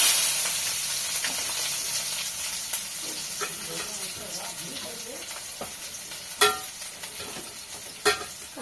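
Chopped onions and green chillies sizzle and crackle in hot oil in a pan for a South Indian tempering, a close steady fry with a few sharp clinks of a stirring utensil.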